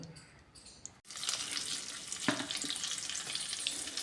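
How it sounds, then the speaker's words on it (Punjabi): Dry fruits, including melon seeds, sesame, raisins and dates, hit hot ghee in a pan with an abrupt sizzle that then holds as a steady, close frying hiss. "ਇਹਨਾਂ ਸਾਰਿਆਂ ਨੂੰ ਆਪਾਂ ਘਿਓ ਵਿੱਚ ਭੁੰਨਾਂਗੇ"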